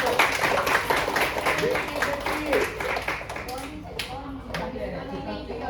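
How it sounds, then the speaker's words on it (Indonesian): A class gives a round of applause for group 1, with brisk mixed clapping from pupils filling the room and voices chattering through it before the clapping thins out. "Berikan tepukan kepada kumpulan 1"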